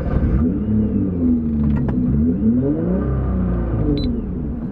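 A Nissan GT-R Premium engine revs steadily with deep, rolling rumble, rising and falling in pitch over several seconds, close and loud.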